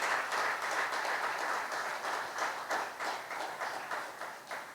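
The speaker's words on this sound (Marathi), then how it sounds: "तर जोरदार टाळ्या आपण एकदा सोनालीजींसाठी वाजवूयात." Faint, steady applause from a studio audience at a talk show, heard alone as a continuous patter of many hands clapping that slowly tapers toward the end.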